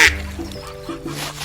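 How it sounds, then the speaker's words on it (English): A small white duck quacks a few short nasal times, close and fairly loud, in a brief farm-animal sound with no talk over it. "It's a small white duck. Quack, quack, quack, quack."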